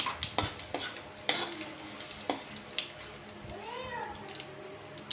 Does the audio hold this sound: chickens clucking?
no